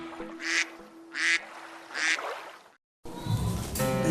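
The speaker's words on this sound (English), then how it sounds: "Mommy duck says, quack, quack, quack" A duck quacks three times in an evenly spaced, nasal series, close and clear, followed by a burst of louder mixed sound.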